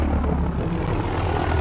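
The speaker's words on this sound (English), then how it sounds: "these fucking helicopters are loud!" Loud, steady helicopter rotor noise from the video game Call of Duty: Modern Warfare fills the sound with a deep continuous thrum and no break.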